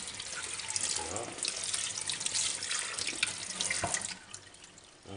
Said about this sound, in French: il suffit de rincer et de passer un coup d'éponge